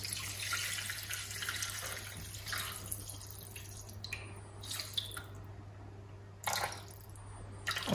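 Vegetable broth poured into a pot in a home kitchen, a steady liquid trickle and splash with brief louder gushes, close and fairly quiet, no voices.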